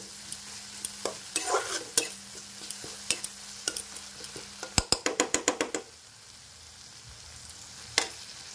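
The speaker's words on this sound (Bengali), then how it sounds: "এইভাবে ভালো করে নাড়িয়ে নিতে হবে, যাতে আদা রসুনের যে কাঁচা গন্ধটা, সেই গন্ধটা যাতে না থাকে।" A spatula scrapes and stirs ginger-garlic paste frying in a pan for a soybean and potato curry, with soft sizzling under irregular strokes, then a quick run of rapid scrapes before quieting, near and without talk.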